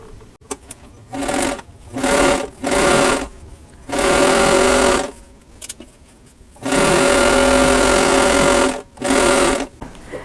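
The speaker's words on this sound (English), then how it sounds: "I'm going to sew with a 1/4 inch seam allowance" Sewing machine stitching a quarter-inch seam on a pillow cover, running in several loud bursts of fast whirring with short pauses between them, alone with no talk.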